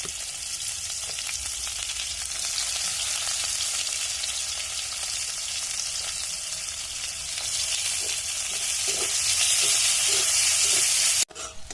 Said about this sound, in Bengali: পেঁয়াজটা ভালো মতন ভাজা হয়ে গেছে।